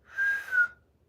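A human voice mimics a whistle heard from a dark forest, giving one clear steady tone that holds for about half a second with a slight dip before it fades, close and fairly soft.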